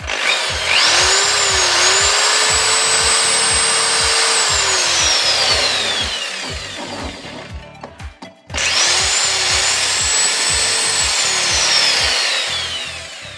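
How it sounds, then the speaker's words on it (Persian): Electric drill powered through a repaired water pump control board, spinning up with a whining motor, running steadily, cutting out briefly, then starting again, loud and close. "الان دریل ها تست میکنیم."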